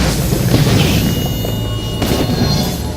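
Fiery blast from Agni's abilities in the video game Smite, a dense, loud rumbling boom that holds steady across the whole stretch, with a sharper burst near the end.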